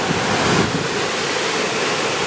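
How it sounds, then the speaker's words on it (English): Hurricane Sally's eyewall winds roar in a dense, constant, loud rush of gusting air that buffets the microphone without a break, and no one speaks over it. "I don't think I've ever seen winds quite like that before."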